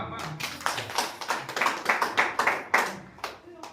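An audience at a Tamil Christian testimony gathering claps hands, starting sparse and building into a brisk, fairly close run of claps, with a voice speaking briefly at the start.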